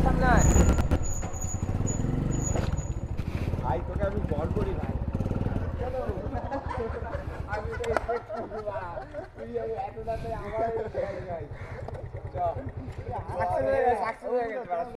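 Grandfather's motorcycle, a Bajaj/Hero Passion, carries riders on a road trip with a steady engine drone and wind rumble throughout, while people talk over the ride.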